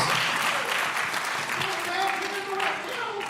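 An audience bursts into sustained applause, loud dense clapping with some whoops, while someone speaks over it.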